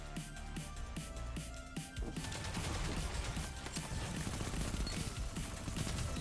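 Rapid bursts from a submachine gun in the shooter game Destiny 2, the rounds cracking in quick rhythmic strings that run almost continuously, close and fairly loud, with brief mechanical clicks between volleys.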